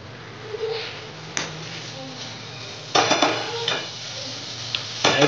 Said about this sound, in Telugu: హై ఫ్లేమ్లో ఒక 15 minutes ఉడకనిస్తే ఇంచక్క రొయ్యల ఫ్రై తయారైపోతుంది